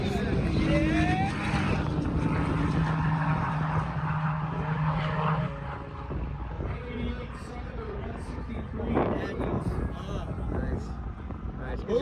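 A twin-turbo Porsche GT3 accelerating down a track, engine howling as it climbs through the gears and then fading into the distance, heard from a spectator position with excited voices talking over it.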